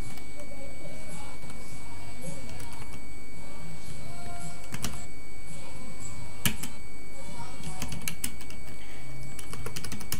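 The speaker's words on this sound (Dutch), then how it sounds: "Ik moet hem even typen nog hoor." Rapid clicking of computer keyboard keys during a Minecraft session, in irregular bursts under a person speaking Dutch, with background game sounds.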